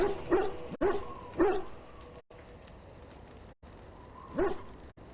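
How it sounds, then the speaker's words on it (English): A dog in Dragon Age: Origins barks in a few sharp, close bursts, three in quick succession early on and one more after a quieter stretch, with no talk over it. "That dog! Mangy mongrel!"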